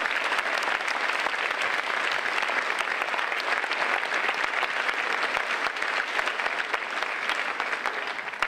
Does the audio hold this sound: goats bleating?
no